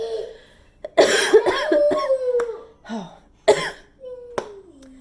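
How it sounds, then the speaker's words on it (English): Several harsh, throaty coughs in quick bursts, close to the mic, mixed with strained vocal sounds between them. "I'm still coughing"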